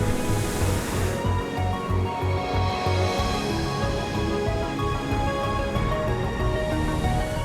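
Ocean waves break with a steady, heavy roar of surf and churning water, and a faint mechanical hum runs underneath throughout.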